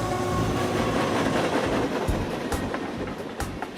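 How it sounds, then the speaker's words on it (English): A train rolls past near an old tin barn northeast of Oklahoma City, a steady loud rumble with rhythmic clicks and clacks of the wheels and no voices. "he can hear the train as it goes by."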